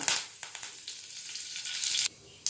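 Curry leaves drop into hot oil with fried chana dal, giving an abrupt close sizzle that crackles and flares in bursts, then cuts off sharply near the end.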